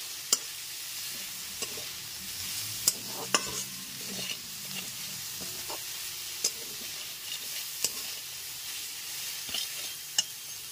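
Spiced egg chicken filling for a street-style egg chicken roll sizzles softly in a pan over a low flame as a spatula stirs it, with scattered sharp clicks and scrapes against the metal.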